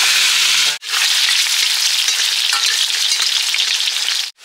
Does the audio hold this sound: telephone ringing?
no